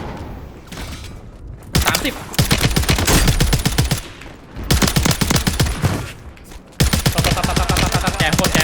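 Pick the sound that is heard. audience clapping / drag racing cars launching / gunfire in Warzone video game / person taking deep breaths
gunfire in Warzone video game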